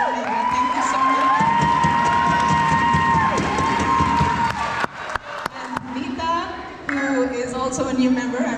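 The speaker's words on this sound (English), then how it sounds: "So, major applause for Mega." Audience applause and cheering for Mega at a culture show, with crowd shouts and clapping under loud talk and tonal sounds, broken by a few sharp bursts and short gaps in the middle.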